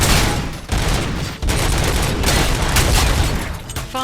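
Heavy, dense gunfire in the video game RoboCop: Rogue City, loud rapid bursts packed closely together with only a couple of brief gaps.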